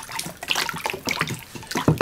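Pottery glaze is poured in a studio, a close, uneven liquid splashing and trickling that comes in short bursts with no talk over it.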